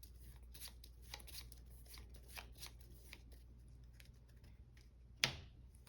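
A deck of cards is shuffled during a Marvel Champions card game session, with soft quiet riffling and a run of light flicks, ending in one sharp snap, with no talking.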